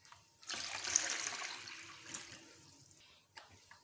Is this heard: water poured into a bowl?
yes